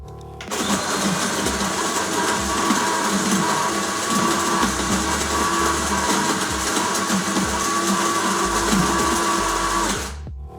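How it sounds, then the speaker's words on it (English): A coffee machine grinds and brews Top of the Morning coffee with a steady, close, buzzing mechanical whir that runs for about ten seconds and then cuts off abruptly. "this is the sound of Top of the Morning coffee"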